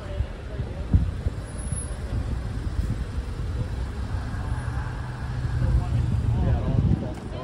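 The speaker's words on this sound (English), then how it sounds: "Hello, another car." A car passes by outdoors, its low engine and road rumble swelling gradually and peaking near the end, with people talking over it.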